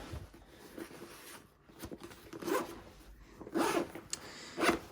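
A few quick pulls of a two-way zipper on a lightweight assault backpack, close and fairly quiet, each a short ripping rasp, with brief pauses between them.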